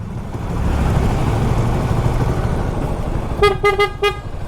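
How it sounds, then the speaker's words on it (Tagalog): Several short car horn honks from a damaged horn sound in quick succession near the end, rising over steady engine rumble and road noise. "Nagiba yung busina ko."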